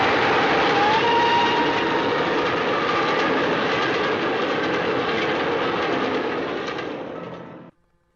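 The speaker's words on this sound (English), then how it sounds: "There's my train." A train passes steadily nearby, a loud continuous rumble with rail clatter that holds for several seconds, then fades and cuts off near the end.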